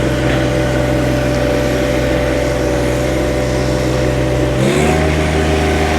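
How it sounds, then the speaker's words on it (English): A 2023 John Deere 1025R compact cab tractor engine runs loud and close while backing up in four-wheel drive, a steady diesel drone that shifts pitch abruptly near the end. "So, we're in four-wheel drive, and we're backing up."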